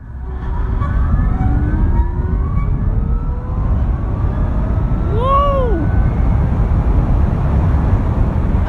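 A Zero S ZF13.0 electric 125 motorcycle pulls away from a motorway toll barrier and accelerates from 0 to 130 km/h, its thin motor whine rising steadily in pitch over loud, constant wind rush.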